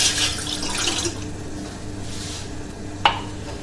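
About a cup of water is poured into a pot heating on a gas stove for masala tea, heard as a close, splashing trickle that fades off, followed by a single sharp clink of metal.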